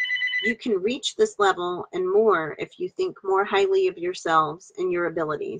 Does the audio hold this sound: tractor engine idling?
no